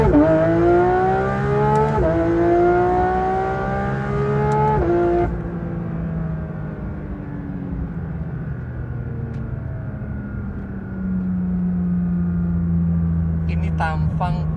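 A Porsche 911 GT3 RS engine revs hard and climbs in pitch, with quick gear shifts breaking the rise, then settles into a steadier drone before building again, loud and close.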